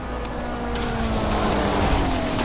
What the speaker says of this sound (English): now, see how easy it does donuts?